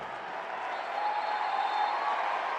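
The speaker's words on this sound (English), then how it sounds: "The crowd applauding Lade" A soccer crowd at a Red Bulls versus Union U.S. Open Cup quarterfinal applauds a player warming up on the sideline, a steady distant wash of clapping that swells slightly.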